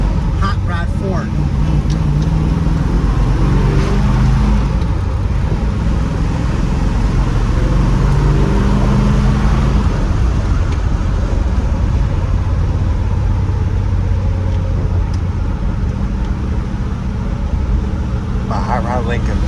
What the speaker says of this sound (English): let's go for a little ride in my hot rod Ford